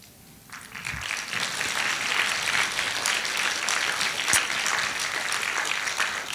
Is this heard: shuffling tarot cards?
no